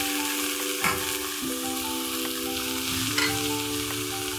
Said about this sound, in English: Once your onions are ready, as you can see, mine are browning, I'm going to add my sukuma wiki.